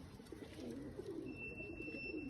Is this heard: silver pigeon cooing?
yes